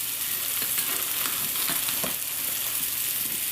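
Cracked eggs frying and being scrambled with a spatula in a hot pan, a loud steady sizzle with scraping strokes of the spatula throughout.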